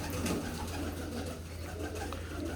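Pigeons coo steadily while pecking at scraps of roti, a continuous, fairly loud murmur from a flock close by with no talking.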